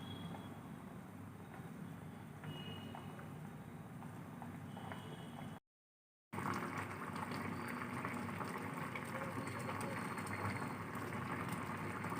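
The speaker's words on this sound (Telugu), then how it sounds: "స్టవ్ ఆన్ చేసుకుని హైలో బాయిల్ చేసుకోవాలి" A Telugu fish curry (pulusu) bubbles steadily over a high flame on the stove, giving a continuous hissing simmer with a brief gap partway through.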